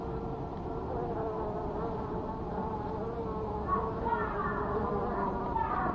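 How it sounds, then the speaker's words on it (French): A dense, continuous buzzing hum of many bees close by in a hive, steady throughout with slight rises in pitch near the end. "Je crois que c'est une abeille qui est en train de se faire sortir là."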